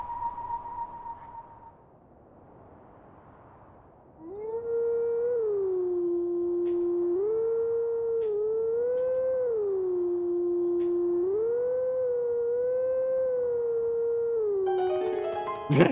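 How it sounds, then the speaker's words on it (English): A wolf howl from Link in the video game Twilight Princess rises and wavers in a long, sustained tone with several pitch steps, loud and close, after a few seconds of quieter game ambience. "Link stops every now and again to start howling"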